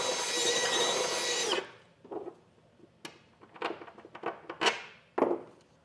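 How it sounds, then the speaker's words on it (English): Power drill enlarging a bolt hole in a truck frame for a B&W Patriot 5th wheel trailer hitch install, a sustained loud drilling burst that stops, followed by scattered knocks and clunks of handling. "I'm just going to kind of waller that out, just kind of walk the bit"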